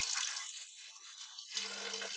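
Garden hose running water at low pressure through the radiator of an Audi A6, a steady broad rush of flowing water that shifts in tone partway through, with a faint low hum joining near the end.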